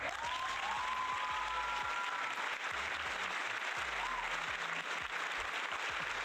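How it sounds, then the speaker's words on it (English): A long applause sound effect is played on a Minecraft stream: sustained, steady crowd clapping heard throughout, with a faint whistling tone near the start and low thumps underneath. "We're going to go with the long applause sound effect."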